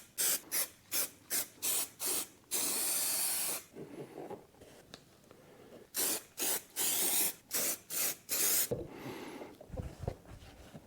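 Spray glue hisses from an aerosol can during an upholstery job on a diesel Volkswagen Beetle, coming in a run of short close bursts followed by longer sustained sprays, with pauses between them.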